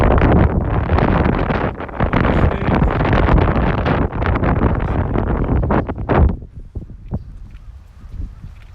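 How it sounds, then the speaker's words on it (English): Wind blows hard outdoors on a warm day in Tokyo, a loud, rushing buffet of gusts across the microphone that drops away abruptly after about six seconds, leaving quieter background air. "Wind is blowing."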